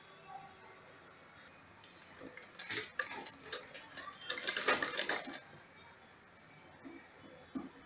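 A sewing machine stitching a shirt runs in a fast, faint ticking burst for a few seconds, rising then easing off, with quiet room noise around it.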